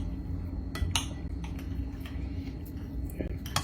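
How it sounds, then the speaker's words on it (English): Knife and fork clink and scrape against a plate during a meal of pambota and fufu, a few sharp taps standing out over low room noise while someone eats. "I'm using knife and fork"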